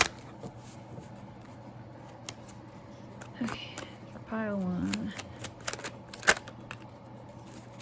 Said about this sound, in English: These cards are much easier to shuffle.